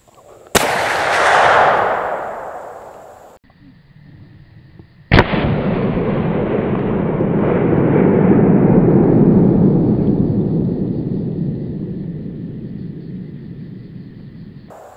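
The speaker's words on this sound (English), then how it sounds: "We'll put another shot down range and see what it does." A muzzleloader rifle fired downrange at an outdoor range, one sharp, very loud blast followed by a long rolling echo that fades slowly, with a sustained whooshing roar beforehand and no talk.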